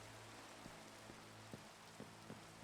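Steady rain falls in Minecraft (All The Mods 6), a soft, even hiss at low level with a few faint taps and clicks scattered through it.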